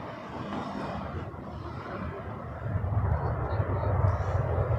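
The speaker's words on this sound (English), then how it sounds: "737-700 from Calgary, WestJet" A WestJet Boeing 737-700 from Calgary rumbles past at Toronto Pearson, a steady low jet roar that swells louder in the final seconds, heard alone without voices.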